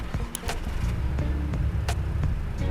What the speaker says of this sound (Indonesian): saya pengen hidupkan dulu mobilnya